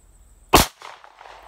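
A single sharp gunshot from a Sig P320X Carry pistol at an outdoor range, one loud crack followed by a brief fading echo.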